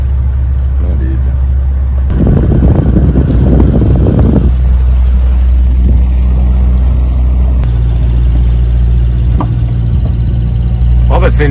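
Sailboat motoring at sea between Madeira and Porto Santo, a steady low engine drone under gusty wind buffeting the microphone, with a louder burst of wind and water noise early on.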